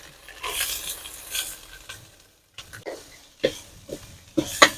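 Onions frying in a pan with ginger, garlic and spices, soft sizzling broken by a few scraping stirs and light clinks, quiet and intermittent with a brief silent gap partway through.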